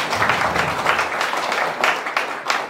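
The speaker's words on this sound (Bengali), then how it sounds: "সবাই একটা জোরে হাততালি দিই।" A crowd at a birthday celebration event for a singer breaks into sustained applause, dense clapping filling the room, fairly loud and continuous.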